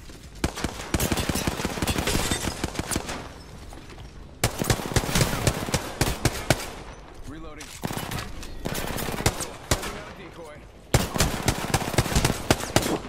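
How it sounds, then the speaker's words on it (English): Rapid automatic gunfire in Apex Legends, loud bursts of fast repeated shots broken by short pauses, several long volleys back to back, with occasional talk over the shooting. "Shots fired."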